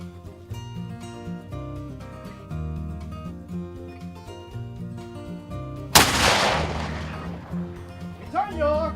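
A black powder cannon fires once at a Fort King George living-history demonstration, a sudden loud blast and long rumbling decay that cuts through drill commands and background music.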